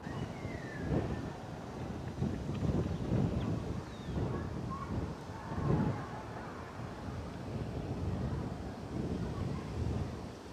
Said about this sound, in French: t'entends vraiment juste le vent, quelques petits oiseaux qui passent